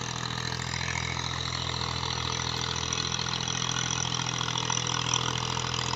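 A Massey Ferguson 240 tractor, 2000 model, fitted with a nine-tine cultivator in Punjab, Pakistan, holds a continuous, even engine rumble nearby, loud and unbroken with no voices.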